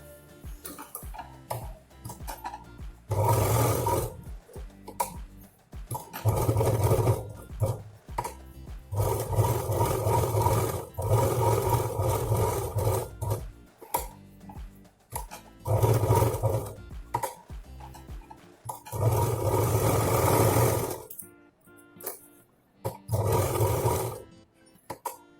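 A domestic sewing machine stitches a ladies' handbag strap in repeated bursts of mechanical running, each a few seconds long, separated by short pauses, close and fairly loud with no talking.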